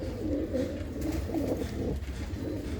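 Close, continuous cooing from pigeons in a loft, low throaty rolls overlapping one another against a steady murmur of background noise.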